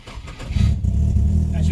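A Nissan Silvia S13 engine cranks and catches when the key is turned, settling into a loud, steady idle that rises on a cold start, with a voice over it.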